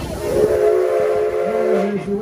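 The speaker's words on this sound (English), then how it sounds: "Please remain seated until you hear the train whistle." Steam-style train whistle on an amusement ride train stopping at Susquehanna Station on opening day, sounding as a sustained layered chord for about two seconds over rumbling train noise, followed by a lower falling tone.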